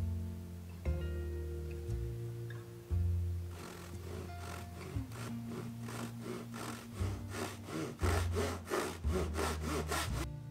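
A hand saw cuts into the ends of wooden lamp rails, first with a few slow, tentative strokes, then a steady, fast rhythm of rasping back-and-forth strokes, close and clear.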